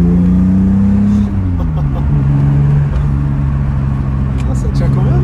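A Toyota Supra MKIII drives and accelerates, its engine droning loud and steady from inside the car, the pitch dropping once as the driver shifts before holding on.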